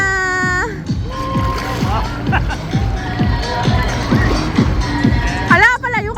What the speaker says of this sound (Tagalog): Kita natin kung gaano kalakas ang wave dito sa Aqua Planet.